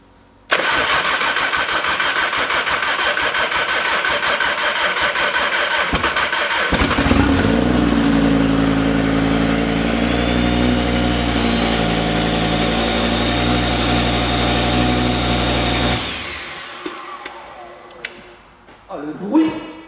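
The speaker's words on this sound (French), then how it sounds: "Oh, ce bruit de 5 cylindres." An Audi RS3 five-cylinder engine with no exhaust fitted cranks, catches and roars into a loud, raw, throbbing idle that rumbles close for several seconds before shutting off, with excited talk over it.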